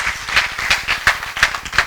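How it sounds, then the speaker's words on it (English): At the close of a school debate in Kwale, a small group claps in a quick, roughly rhythmic run of distinct, fairly loud hand claps. "Let's give them another round of applause as we close"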